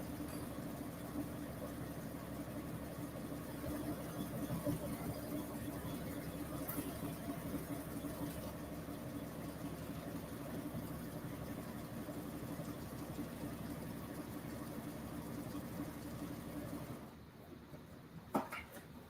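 A sewing machine fitted with a denim needle runs steadily through thick fabric, a continuous mechanical hum that carries on for most of the stretch before stopping near the end, with a few small clicks after.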